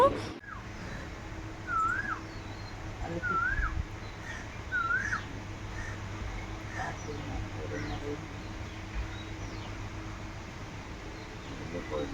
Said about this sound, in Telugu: అది లైవ్లో ఆ పిచ్చుకలు, ఆ వాటర్ సౌండ్,